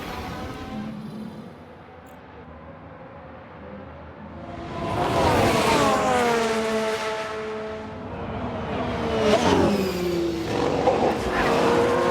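A Formula One car crash replayed in the F1 Manager 2022 racing game: engine whine with rising and falling pitch, tire screeching and a rushing surge as the cars pass, fairly loud with no speech.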